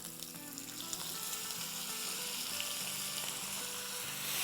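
A pound of minced meat sizzles and fries steadily in hot oil in a pan, a continuous close crackle with no talking, while the filling for Turkish pide is being cooked.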